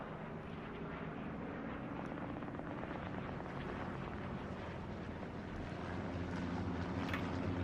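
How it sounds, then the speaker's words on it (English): A recon plane in the Hell Let Loose war game passes overhead, its engine a low, steady droning rumble that stays constant and fairly faint for several seconds with no voices. "recon plane coming in"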